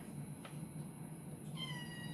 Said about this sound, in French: Ce chat est vraiment très embêtant.